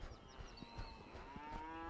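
A cow's low, drawn-out moo rises faintly through rumbling background noise while cattle are worked from horseback.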